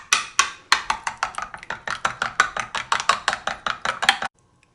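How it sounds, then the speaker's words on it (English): A fork or whisk beats an egg in a bowl for hoe cakes, making a rapid, steady run of sharp clinking taps, about five per second, close and alone before stopping abruptly. "And I'm going to beat that a little bit get the egg beat up."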